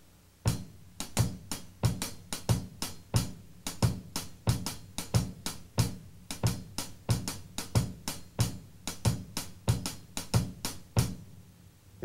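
A hi-hat played with the left hand repeats a quick, even pattern of crisp, close ticks for twelve seconds, fairly quiet and steady, with no voices.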